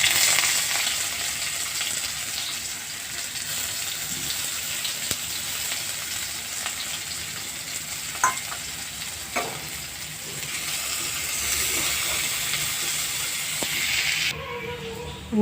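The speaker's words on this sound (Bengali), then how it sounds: "পেঁয়াজগুলো আমি লাল লাল করে ভেজে নেব।" Onions fry in a pan (kadai) with a dry red chilli, giving a steady hiss and sizzle with occasional pops and stirring sounds and brief soft voices in the background.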